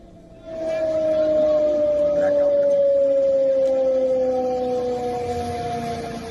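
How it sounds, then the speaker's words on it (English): An air raid siren wails over Srinagar during a blackout, a loud sustained tone that starts abruptly and slowly falls in pitch over several seconds, with faint background noise. "Sirens and blackout in Srinagar as well."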